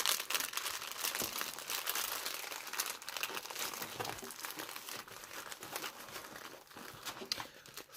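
Diamond painting kit packaging being folded back up by hand, giving a continuous close crinkling and crumpling of plastic and paper with small tearing-like rustles throughout.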